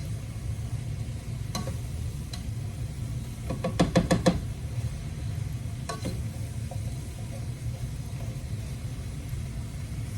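Wooden spoon stirring leeks, onions and potatoes in a soup pot over a low background hum, with scattered scraping knocks and one quick cluster of rapid taps against the pot, fairly faint, with no talk.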